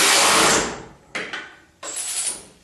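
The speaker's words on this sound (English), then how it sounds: "I'm tightening these as tight as the wrench will do it" A wrench tightening bolts on the rear crash bumper of a 1976 Corvette restomod gives three close bursts of harsh mechanical whirring and ratcheting, each about half a second to a second long, with short pauses between them.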